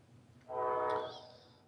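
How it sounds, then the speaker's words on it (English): A train horn sounds once near a railway track, a loud sustained blast of about half a second that swells and then fades. "Another train going by."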